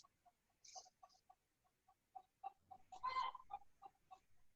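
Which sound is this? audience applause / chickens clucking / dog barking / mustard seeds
chickens clucking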